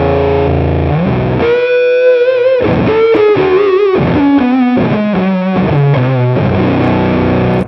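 Electric guitar through a heavy fuzz pedal, buzzy and saturated, playing a descending melodic line of sustained notes, loud and up close with no talking.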